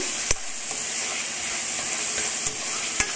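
Ginger garlic paste frying in oil for a tomato and moringa leaf curry, a continuous close sizzle broken by a few sharp spatula clacks against the pan, with no voices.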